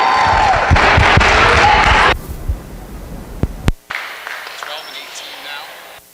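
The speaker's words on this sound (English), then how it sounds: "Let's have one more round of applause for the 2019 LEC Women's Volleyball Champion" Applause rises for the 2019 LEC women's volleyball champions, UMass Boston, after a championship match. A dense, loud burst of clapping lasts about two seconds, then cuts to quieter thumps and a low background.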